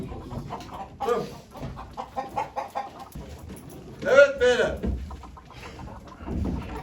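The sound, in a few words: chickens clucking at a poultry auction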